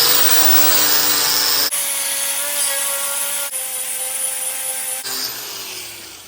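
Pressure washer fitted with a $30 Amazon sand blaster attachment stripping a rusty truck frame, a loud harsh hissing blast with a tonal whine, cutting in and out in several abrupt segments.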